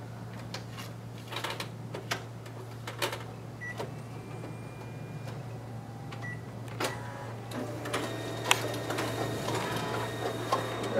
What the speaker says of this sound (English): test out the document feeder on this machine